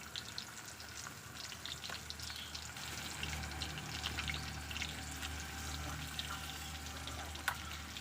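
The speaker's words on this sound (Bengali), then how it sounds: "যে আমি ভেজে নিচ্ছি বড় মাছের মাথাটাকে" A large fish head marinated in turmeric, chili and spices fries slowly in oil, giving a steady, moderately quiet sizzle and crackle throughout with a few brief louder pops and no talking.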